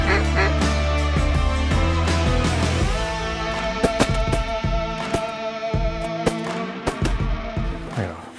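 Mallard ducks and geese calling in a North Dakota field, a chorus of honks and quacks, loud at first and then thinning into scattered, nearer calls, with no talking.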